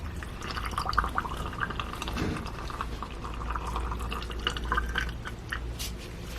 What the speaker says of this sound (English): Go ahead and add your hot water.